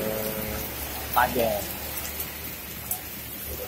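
Steady rain falls throughout, a broad continuous hiss in the background while a person speaks briefly partway through.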